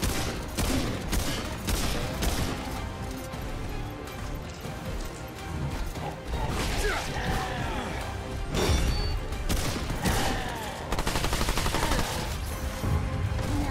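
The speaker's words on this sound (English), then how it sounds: "that SMG burns him down" Rapid SMG gunfire in the video game Remnant 2, dense bursts of shots running almost the whole time, loud and close, with a few crashing impacts mixed in and brief talk underneath.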